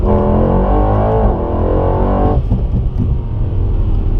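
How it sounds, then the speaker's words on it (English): A deep exhaust on a straight-piped Mercedes E63S AMG rumbles loudly and steadily at idle with a brief rev, close by. "This car sounds so good for a stock exhaust."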